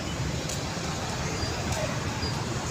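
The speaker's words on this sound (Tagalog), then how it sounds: "Dami ng sasakyan." Steady road traffic outside Robinsons mall in San Pedro, Laguna, a broad continuous wash of vehicle noise heard from a distance with no single pass standing out.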